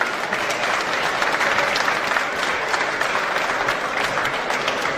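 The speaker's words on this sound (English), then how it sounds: "Give her a hand of applause." A political rally audience gives a dense, steady wave of applause for a state representative, many hands clapping loudly and evenly through the whole stretch with no voices on top.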